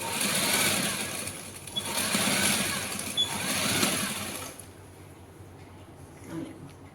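A sewing machine stitches a piping seam, running in steady bursts of loud whirring for about four and a half seconds, then dropping to a quiet hum with faint handling sounds.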